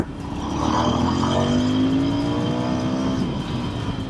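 A stock Royal Enfield Interceptor engine revs in first gear, a loud nearby exhaust note climbing steadily in pitch, holding high, then easing off.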